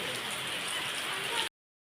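Continuous soft hiss of rain falling in Jammu, even and unbroken, cutting off abruptly near the end.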